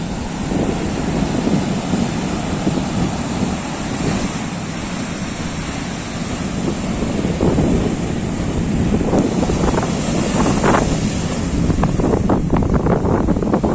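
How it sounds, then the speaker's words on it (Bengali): Rough monsoon sea waves roll and crash continuously on Shankarpur beach in the rain, a loud, dense roar with heavy wind buffeting the microphone. "দেখো ঢেউগুলো কিরকম আসছে দেখো"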